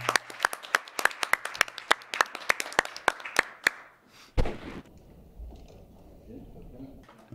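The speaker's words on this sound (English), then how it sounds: "maybe a round of applause for everyone in the room" A workshop audience gives a short round of applause, a string of sharp distinct claps for about four seconds, followed by a thump and quieter room noise with faint talk.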